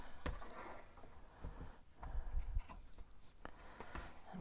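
Scissors snipping through fabric to trim off the selvage edge, a few close, crisp cuts with soft rubbing of cloth between them, no talking.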